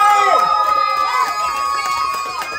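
A concert crowd cheers after an idol performance, with loud, high shouts and squeals rising and falling over a steady roar of the audience.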